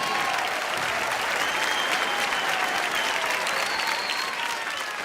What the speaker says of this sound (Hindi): जोरदार तालियां सभी टीमों के लिए।